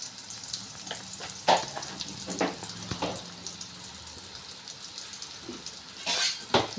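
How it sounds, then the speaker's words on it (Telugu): Sliced bitter gourd with a little salt and turmeric sizzling steadily in a pan, with intermittent scraping stirs and a few sharp clinks of the spoon against the pan, close up and with no talking. "కలుపుకుని ఇంకా వేగనిద్దాం."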